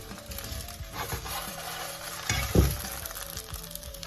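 Pancake batter frying in a pan, a soft steady sizzle close by, with a brief louder scrape or clatter of the pan midway.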